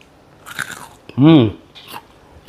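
Someone bites into crunchy fried banana fritters, and brief crisp crunches sit between loud, close voiced sounds from the person eating.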